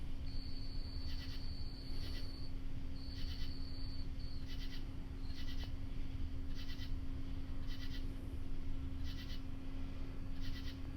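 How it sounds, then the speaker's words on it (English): Steady night chorus of calling frogs or toads with a constant drone underneath, pulsing croaks repeating at intervals, moderately distant and fairly quiet. "You can hear the croaking toads out here."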